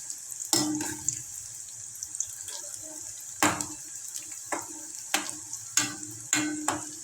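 Soya chunks frying in oil in a pan, stirred continuously with a spoon, giving a steady high sizzle broken by repeated scraping strokes at irregular intervals; no speech.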